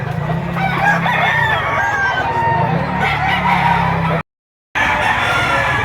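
Chickens cluck and a rooster crows in a busy poultry setting, a dense close chorus of calls running continuously before a brief dropout, with no clear voices.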